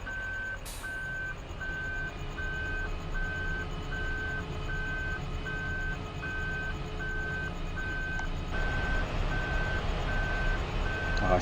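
A John Deere harvester in Farming Simulator 2013 gives off a steady stream of evenly spaced reversing beeps over a constant low engine rumble, fairly loud throughout.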